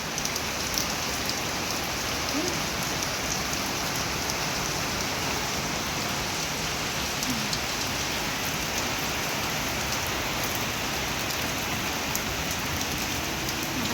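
Heavy rain pours steadily, a dense continuous hiss of drops with no pauses throughout.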